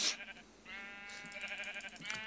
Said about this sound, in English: Ooh, sheep. Flying sheep.